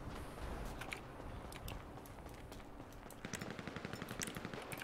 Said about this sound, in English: they're shooting at me again